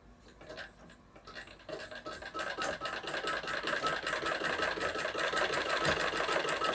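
Sewing machine stitching blouse fabric, a steady dense mechanical whir that starts softer and then runs continuously louder for several seconds, with no talking.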